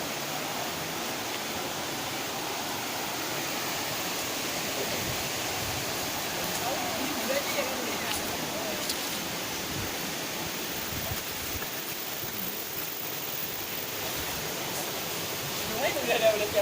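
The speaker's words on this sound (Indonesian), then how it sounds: "kita nyampe di Curug" Curug Cilalay, a waterfall in Karawang, makes a steady broadband rush of falling water that stays constant and fairly distant, with faint voices underneath.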